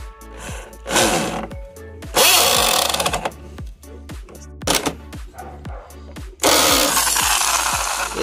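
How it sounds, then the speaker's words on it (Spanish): A power drill whirs in repeated loud bursts, driving screws into pallet wood while building a dog house, with rhythmic knocks and grinding between runs, close and busy throughout. "la atornillamos para que quede fija"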